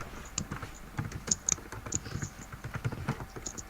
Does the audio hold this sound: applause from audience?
no